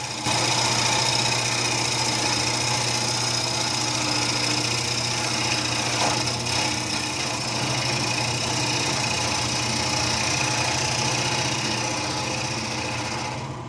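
A wood lathe turning a wet, spalted alder bowl, a steady continuous motor drone with a constant mechanical hum and a faint tool scrape mid-way, loud and close without pause.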